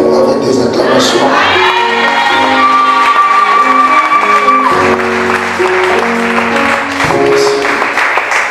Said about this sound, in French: Et à dire plus fort Amen avec des acclamations.